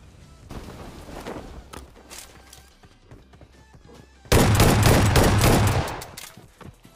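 Gunfire in the mobile shooter Battlegrounds Mobile at a military base, with scattered shots early on and then a sudden loud, dense burst of blasts lasting about two seconds before fading.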